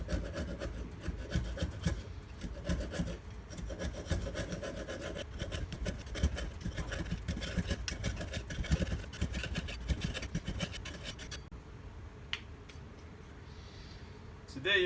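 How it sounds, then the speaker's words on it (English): An old, not very sharp small chisel scrapes glued cork off steel during a Scott Bonnar 14 mower teardown, a close, steady rasping rub with repeated short strokes that continues for the whole stretch before easing off. "The chisel just removes the cork."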